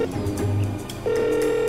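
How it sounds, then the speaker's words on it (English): A phone rings out in GTA 5, with steady electronic ringback tones over a background of in-game music and ambience, fairly loud and without talk. "Come on, pick up the phone."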